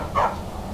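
A dog in the Skyrim video game gives one short, loud bark, with quiet game ambience after it.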